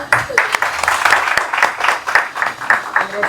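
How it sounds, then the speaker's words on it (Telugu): An audience at a book launch claps in quick, uneven bursts nearby, loud and lively for a few seconds, with a voice faintly mixed in. "క్లాప్."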